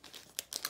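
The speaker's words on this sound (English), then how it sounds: "I'm gonna continue unwrapping the" Plastic wrapping crinkles in a few quick, soft rustles as a SLAMTEC RPLIDAR 360-degree laser scanner development kit is unwrapped. The sound is faint and close and lasts under a second.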